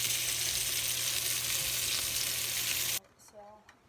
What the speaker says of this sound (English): So now I'm sauteing my peppers